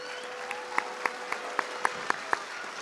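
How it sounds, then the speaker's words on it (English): Sparse, faint clapping at a FIRST Robotics team induction ceremony, about seven sharp individual claps spaced evenly over a low steady hum, no voices heard. "let's give the biggest round of applause for all the members of the team"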